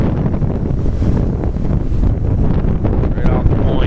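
Strong hurricane wind roars and buffets a microphone at a harbor at night, a dense continuous rushing and blasting noise that stays loud throughout, with possible muffled voices underneath.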